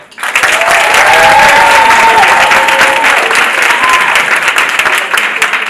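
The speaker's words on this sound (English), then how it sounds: "A round of applause if you think Sensi is the girl." Loud, enthusiastic applause fills a room at a business pitching event, with dense, sustained clapping from a crowd and whoops and cheers rising over it before easing slightly.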